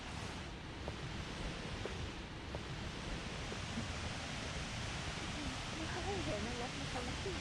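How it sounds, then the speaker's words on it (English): Haew Suwat waterfall in Khao Yai National Park, Thailand, gives a steady, quiet broadband roar of falling water from a distance. Faint chirping rises over it near the end. "waterfall."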